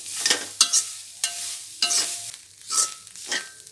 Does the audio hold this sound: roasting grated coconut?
yes